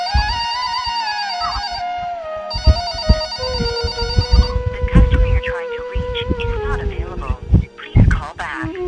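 A phone's ringing tone plays in a repeating electronic pattern, with voices and clattering noises breaking in over it.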